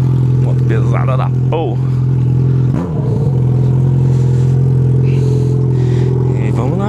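A heavy motorcycle with a broken exhaust running on just the bare pipe idles with a loud, steady, deep drone throughout, while someone talks over it.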